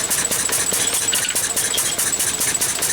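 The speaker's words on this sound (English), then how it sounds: "let's see if the engine's go again" A Lister D stationary engine driving a universal grinder runs steadily nearby, a fast, even, rattling chug with a clattering mechanical beat and no voices.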